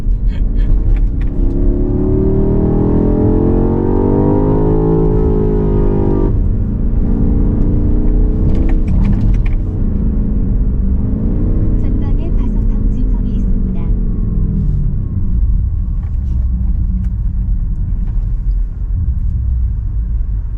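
A BMW X6 M accelerating hard at full throttle, a loud continuous engine roar rising and sweeping in pitch from inside the car, with people talking over it throughout.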